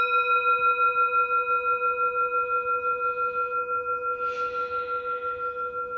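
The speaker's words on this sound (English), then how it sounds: "I feel like I need to ring the bell again." A ringing bell, probably a small singing or meditation bowl-type bell, sustains clear pure tones that waver and pulse slowly as they decay, with a soft brushing sound partway through; no talking.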